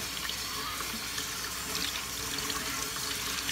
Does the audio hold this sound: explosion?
no